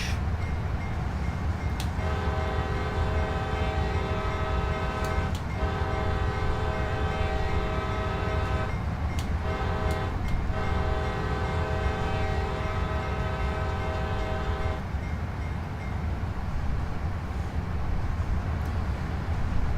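A train horn sounds in several long blasts with short breaks, loud over a continuous rumble of rolling rail cars.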